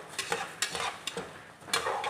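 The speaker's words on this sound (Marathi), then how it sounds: "आपल्याला लापशी छानपैकी भाजून घ्यायची आहे" Broken wheat (lapsi) roasting in ghee in a pan while being stirred, giving a soft sizzle under repeated scraping strokes of a spoon against the pan.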